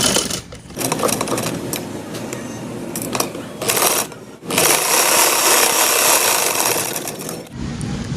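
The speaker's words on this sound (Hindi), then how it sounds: "अब इस पर सिलाई लगाते हैं। चलिए यहाँ सिलाई लगा लेते हैं।" Sewing machine stitching a frock lining and net, running in fast steady bursts of rapid needle clatter with brief pauses between runs, close and fairly loud.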